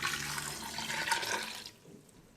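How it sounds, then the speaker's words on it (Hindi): Roughly two glasses of water poured into a cooking pot holding red chili, turmeric, cumin, a cinnamon stick and garam masala for beef shami kabab. A steady, close splashing rush lasts about a second and a half, then drops to a quiet trickle. "अब इसमें 2 गिलास के करीब पानी डाल देंगे।"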